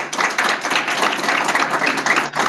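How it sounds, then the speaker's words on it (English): Steady, full applause from the audience at a retinoblastoma research symposium greets a multidisciplinary panel, continuous and fairly loud with a brief dip near the end. "Let's give our panelists a round of applause."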